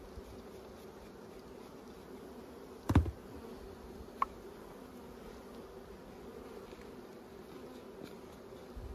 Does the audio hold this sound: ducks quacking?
no